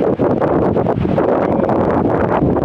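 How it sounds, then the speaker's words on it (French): Strong wind buffets the microphone on a beach at Équihen-Plage during an evening surfcasting outing in the rain, producing a loud, constant rumbling roar with no voices. "Il y a un petit peu de vent"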